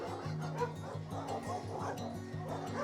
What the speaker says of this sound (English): I had to take a second and show one of my favorite dogs at the rescue.